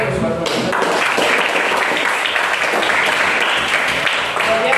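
Classroom applause for a student, a dense spread of clapping from a group of pupils, steady and fairly loud throughout with some voices mixed in.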